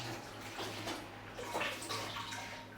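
Water poured into a blender cup holding flaxseed, a soft continuous splashing and trickling that stays close and fairly quiet throughout, with no voices.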